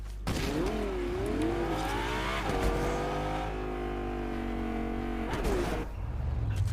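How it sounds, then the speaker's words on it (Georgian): A car driven in the video game Fortnite, its engine droning and revving steadily with gear shifts, loud and close, with no one talking. "აგე მანქანა"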